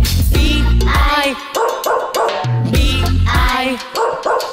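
A dog barks in short, repeated yips roughly once a second over a children's nursery rhyme about a farmer's dog, with bright sung melody and music throughout.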